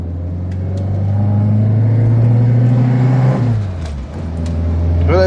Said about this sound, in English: Very revvy little engines